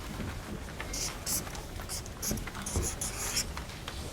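A pen scratches across paper as a math expression is written out by hand in a third-grade lesson, with soft irregular strokes and faint taps close by against low room noise.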